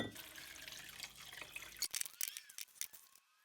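Water rinses a dirty Land Rover air intake part, first as a continuous running splash, then breaking into scattered drips and trickles before fading near the end.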